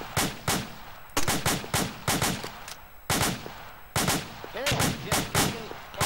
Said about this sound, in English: I'm firing on it